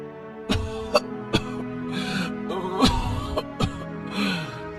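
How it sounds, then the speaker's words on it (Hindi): Several sharp, harsh coughs from a woman with a worsening cough of several days burst out one after another at irregular intervals, close and fairly loud, with breathy sounds between them. "ये कैसी खांसी है?"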